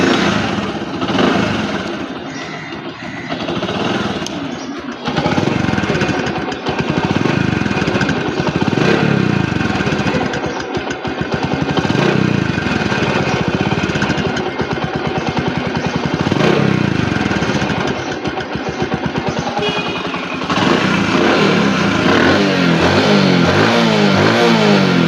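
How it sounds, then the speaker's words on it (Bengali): A used Discover 110cc motorcycle engine starts and runs steadily at close range, a loud continuous mid-pitched drone with a few rev changes and brief throttle bursts throughout. "ডিসকভার বাইকের যে সাউন্ডটা থাকে সেই সাউন্ডটাই আছে।"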